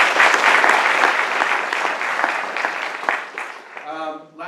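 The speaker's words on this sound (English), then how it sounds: "So give Terry Hubbard a round of applause." A crowd applauds at an evening presentation, loud dense clapping that gradually thins out over about four seconds before a voice begins speaking at the end.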